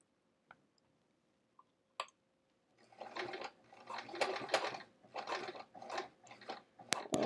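A sewing machine stitches through bulky layers of a travel art folio while attaching handles, a few isolated clicks first, then a run of pulsing stitch bursts up close.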